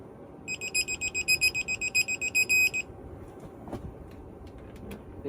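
A torque wrench tightening bolts during a turbo swap on a Cummins X-15 engine gives a steady run of sharp electronic beeps, followed by quiet workshop background with faint clanks.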